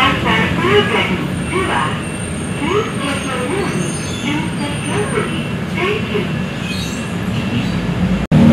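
Steady engine rumble and road noise fill the inside of a moving TransJakarta bus on the Pulo Gadung route in Jakarta, continuous and fairly loud, with voices talking now and then over it.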